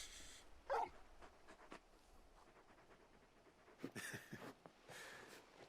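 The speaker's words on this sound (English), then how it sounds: "You're just a big puppy, aren't you? A very big puppy." A large dog companion in the video game Final Fantasy XVI gives a quiet bark, then soft panting, whimpers and yips, faint and intermittent against a low background.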